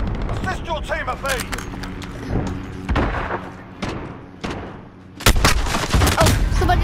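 Gunfire in a Call of Duty Modern Warfare multiplayer match comes as loud, sharp shots and bursts through a dense game mix, with occasional quieter gaps between volleys.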